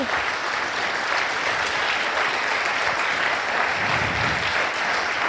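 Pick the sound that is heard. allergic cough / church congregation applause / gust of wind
church congregation applause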